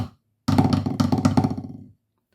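A short snare drum phrase from the Illawalla marine solo, the opening section of part two: a quick run of accented strokes closing on a tight roll, close and solo, framed by silence.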